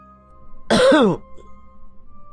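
A single harsh cough, or a rough throat clearing, rings out close and loud against a quiet background with a faint steady hum.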